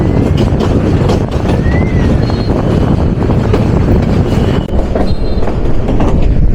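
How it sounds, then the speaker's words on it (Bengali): A Titas Commuter train runs at speed, heard from its roof near Brahmanbaria: a loud, steady roar of wheels and wind buffeting, with faint squeals and rhythmic rail clatter throughout, no talk. "মেথিকান্দা স্টেশনে যাত্রাবিরতি সম্পূর্ণ করে ট্রেন ছুটে চলছে তার পরবর্তী যাত্রাবিরতি স্টেশন"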